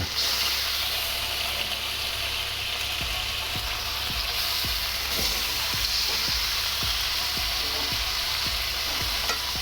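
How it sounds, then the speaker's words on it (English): Tofu sears in a pan over medium-high heat for Cantonese tofu beef, giving a loud, continuous sizzle with repeated soft clicks of a utensil moving the pieces; no talking. "I'm just going to sear the tofu"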